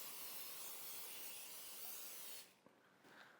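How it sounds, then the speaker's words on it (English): A steady hissing spray from an olive oil cooking spray can onto a pan for a couple of seconds, then it stops, followed by a faint clink and quiet room noise. "make sure you spray your pan with olive oil spray"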